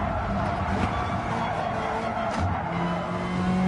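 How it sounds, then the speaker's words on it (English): A race car engine in a racing video game howls at high revs against the rev limiter, a loud constant engine drone with tire noise throughout. "I just hit the rev limiter like a dumbass"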